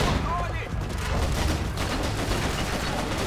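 Dense gunfire in Max Payne 3, a loud rapid fusillade of shots and impacts filling the whole stretch, with game voices mixed underneath.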